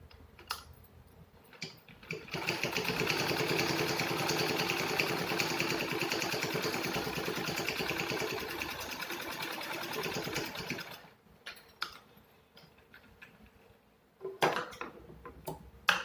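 A sewing machine stitching pockets on a cloth organizer made from old fabric runs in one long, fast, steady burst of close mechanical whirring, then stops, leaving scattered clicks and handling noises.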